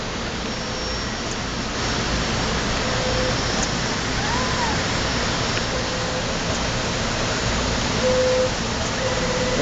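A KISS 102 selective solder machine runs its fluxer and solder pot, giving a continuous broadband hiss and hum with little change, steady and close, with no voices.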